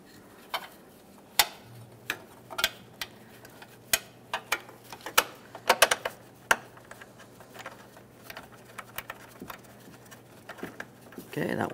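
Bolts on a 2011-2021 Jeep Grand Cherokee headlight bracket, 13mm and 10mm, being snugged up with a ratchet: a long run of sharp metallic clicks and ticks at irregular spacing, close and fairly crisp over a low steady hum.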